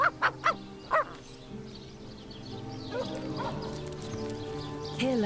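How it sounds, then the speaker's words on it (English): A dog barks four quick times, loud and close, in the fantasy role-playing video game Divinity: Original Sin, then the scene settles into soft ambient game music. "Looks like that dog is awfully agitated."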